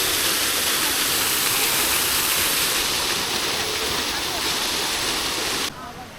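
Water from a tall park fountain shooting high into the air at Yelagiri Hills, a loud, steady broadband rush that runs unbroken for about six seconds and then drops away sharply near the end.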